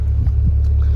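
A 1991 Toyota Corolla DX with radiator trouble idles up close, a steady, loud, low engine hum with an even pulse throughout and no voices.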